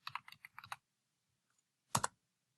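Typing on a computer keyboard while entering text into a spreadsheet: a quick burst of close key clicks, a pause, then a short final cluster of louder taps, with no talk over it.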